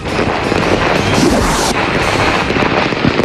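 New Year fireworks over a Philippine city welcoming 2011, a loud, dense and continuous wash of overlapping booms and crackling bursts with no clear gaps, filling the whole stretch without voices.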